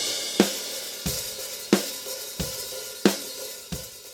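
Unprocessed live drum kit picked up by just two microphones, playing a steady beat of kick and snare hits with cymbal wash, sounding natural, roomy and moderately loud with no voices.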